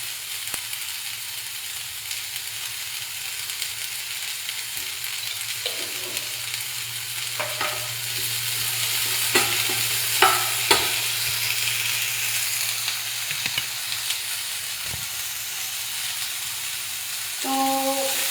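Vegetables fry in a pan with a steady, soft sizzle, with a few spoon scrapes and stirring clinks over the continuous crackle, fairly close, and nobody speaks.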